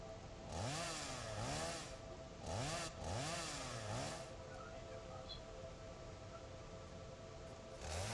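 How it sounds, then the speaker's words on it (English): Chainsaw engine in the video game Satisfactory revving up in three strong surging bursts, each with rising and falling pitch, then settling into a steady buzzing idle that runs to the end. "let's get the chainsaw warmed up here now"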